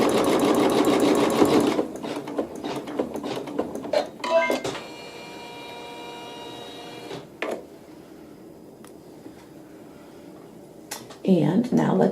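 A sewing machine with a hoop finishing a seam, its fast mechanical stitching loud and close at first, then a quieter whirring hum with brief clicks and a final short burst of stitching.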